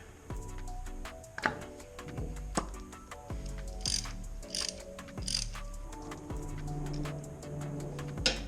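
A ratchet clicks in short repeated bursts while a motorcycle spark plug wire is taken off, close and fairly quiet, with tool knocks between runs and no talking.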